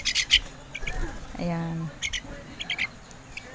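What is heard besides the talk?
pet birds outside their cage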